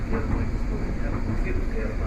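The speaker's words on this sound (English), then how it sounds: "We're on the train." Constant rumbling and rattling of a moving train heard from inside the carriage, a dense low roar with no clear pauses.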